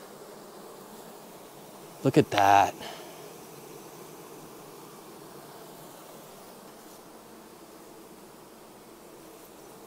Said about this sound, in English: There's so much bee activity, they're actually wearing down the wood.